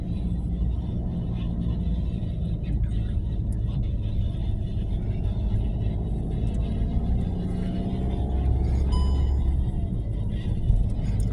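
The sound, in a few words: car driving along Morong Highway, Rizal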